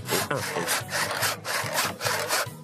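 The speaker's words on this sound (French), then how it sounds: "Quand tu scies, c'est en force, comme ça." A hand saw is cut by hand through wood in a French farm setting, giving steady rhythmic rasping strokes, about ten back-and-forth passes, loud and close with no talk.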